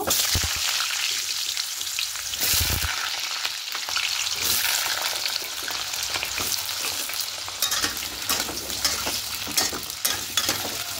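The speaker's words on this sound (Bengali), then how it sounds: "আলুগুলো একটু হালকা করে ভেজে নেব।" Potatoes fry in white oil in a wok with a steady, crackling sizzle held close by, broken by occasional scraping and stirring sounds throughout.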